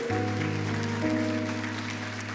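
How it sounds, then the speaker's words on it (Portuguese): A church congregation applauds through a Communion service, a steady wash of clapping under sustained keyboard or organ chords that hold throughout. "Você pode aplaudir o Senhor? Faça isso com alegria."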